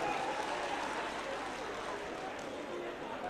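Crowd at a political party convention clapping in a steady, fairly faint wash of applause, sustained throughout with no clear voices.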